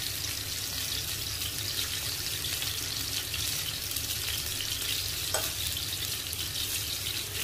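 Chicken breast pieces sizzle steadily in a hot pan for a kantari chicken dish, an even, continuous close frying hiss with no talk.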